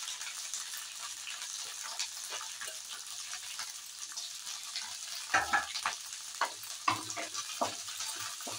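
Fenugreek leaves and tomato fry in hot coconut oil for a roti chutney, giving a steady close sizzle. Midway, scraping stirs and spatters break in at intervals.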